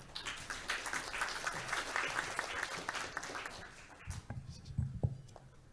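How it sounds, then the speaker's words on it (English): Audience applause at a blockchain conference keynote, a moderate spread of many hands clapping for several seconds before thinning into a few scattered claps and faint room noise. "Please give a hand of applause."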